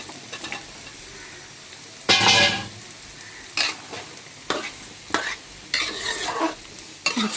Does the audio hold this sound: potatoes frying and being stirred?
yes